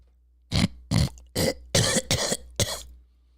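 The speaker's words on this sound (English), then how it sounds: "I think I need to clear my throat" Someone clears their throat several times in quick, harsh bursts, six short rough coughs in a row, close and fairly loud.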